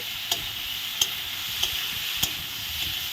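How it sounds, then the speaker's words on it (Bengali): Cashews frying in a pan for a butter paneer masala spice mix give a steady close sizzle, with several sharp stirring scrapes at regular intervals. "কাজু দিয়ে ভালো করে একটু ভাজা ভাজা করা হলো"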